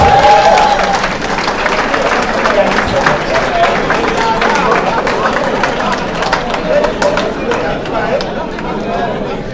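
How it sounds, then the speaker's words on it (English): Crowd applause at a college soccer showcase information session, sustained clapping from many people mixed with chatter and voices throughout, loud and close. "Give her a round of applause"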